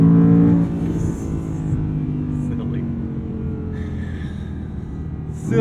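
An Audi R8 with a V10 engine pulls away under acceleration. A loud rising engine note at the start settles into a steady, lower cruising drone, with a driver's voice audible faintly over the cabin sound.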